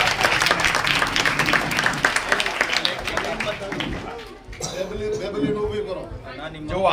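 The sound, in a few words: audience applause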